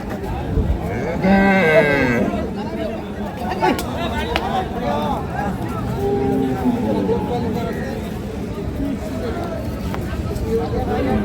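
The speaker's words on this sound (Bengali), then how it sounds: "পুরা সাদা গরু, রানী শঙ্কর গরু ভাই" A white Rani Shankar dairy cow lows loudly nearby at a busy village cattle market, the low drawn-out moo rising over constant crowd chatter and people talking close by.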